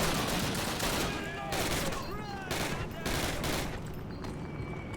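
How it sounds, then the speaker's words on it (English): Call of Duty combat with grenade explosions and heavy gunfire, a dense continuous barrage of loud bursts and rattling shots filling the whole stretch with no pauses. "God, I heard a lot of grenades."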